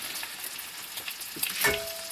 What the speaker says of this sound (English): I got 2 eggs I'm going to pop in there.